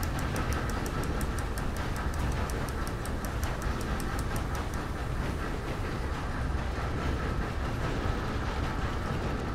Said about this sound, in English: I've never driven a train before.